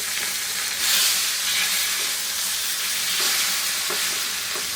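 Chicken pieces frying in a pan for a chicken salad, a loud continuous sizzle and crackle of hot oil, close and steady with slight swells and occasional soft clicks, no talking.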